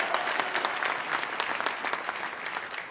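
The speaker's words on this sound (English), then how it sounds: "Let's give them a round of applause." Audience applause fills a school gymnasium at a Saturday morning event, a steady dense patter of many hands clapping close by, sustained without pause.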